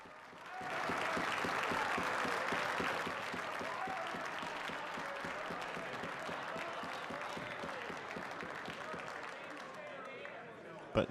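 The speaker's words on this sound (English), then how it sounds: "Like everyone gets up and claps for him too" Parliament members applauding together in the chamber, a dense sustained wash of clapping that holds steady for several seconds and thins out near the end, with murmured voices mixed underneath.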